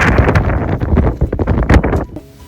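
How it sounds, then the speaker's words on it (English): Strong wind in El Chaltén, Patagonia buffets the microphone with loud, rough gusts that roar and flutter close up for about two seconds, then drop away abruptly to a quieter background. "the force of the wind here is unbelievable"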